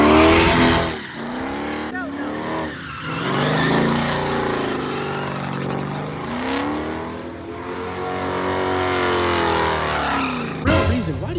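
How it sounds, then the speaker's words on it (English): Car revving hard with tire squeal at a neighborhood car show, the engine rising and falling through several long sweeps near and loud, with a sharp burst at the end and some talk around it. "Is this why you like killing tires and making noises in my neighborhood?"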